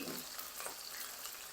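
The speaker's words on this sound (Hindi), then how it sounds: "तो प्याज हम पहले शामिल कर देंगे कढ़ाई में।" Onions go into hot oil in a kadai over a high flame, giving a loud, steady, broadband sizzle that carries through the whole moment with no voices.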